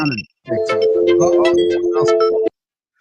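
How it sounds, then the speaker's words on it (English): A phone ringtone, apparently triggered by the TikTok app, rings as a steady sustained electronic tone for about two seconds, loud and close, after a brief bit of talk. "Phone's ringing or something? Something's ringing. It's TikTok doing it."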